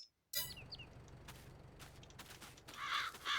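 Birds caw in the farming game Farming Simulator 22, with a few short calls over a quiet outdoor ambience and some creaking machinery-like sounds, with no talk.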